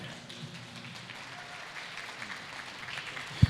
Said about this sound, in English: Let's applause, make some noise for this guy